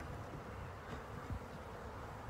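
Honeybees in an opened hive during an early spring inspection fill the air with a dense, continuous buzz, close and steady, with no talk over it.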